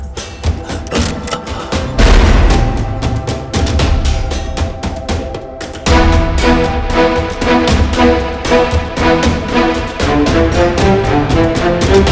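Loud bursts of gunfire and heavy booms crash over a dramatic music score, with rapid repeated shots in a Hindi action film scene.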